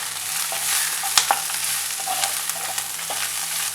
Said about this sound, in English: Saute the onions for a minute.